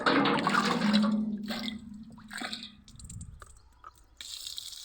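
Liquid organic fertilizer made from leaves such as drumstick and neem is poured onto garden plants, giving a loud, steady watery splash for about three seconds that then thins into scattered drips and faint rustles.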